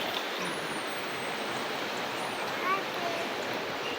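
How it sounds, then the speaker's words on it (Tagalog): A raging flooded river with waves crashing, a steady broad roar of rushing water filling the whole clip with one louder surge near the end. "Doon nakakatakot, oh, pumuputok yung alon."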